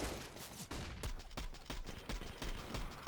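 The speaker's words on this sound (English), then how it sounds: "That sounds really cool with that slow mode sound effect with that silence pistol." A silenced pistol fires in Counter-Strike during a pro match on the map Inferno, a rapid series of muffled, close shots in quick succession, fairly faint overall.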